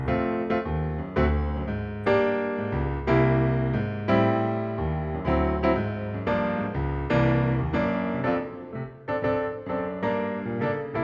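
Piano plays a smooth 1-6-2-5 sequence of rich chords as a tune intro, moving steadily through changes at a moderate tempo, close and alone with no talking.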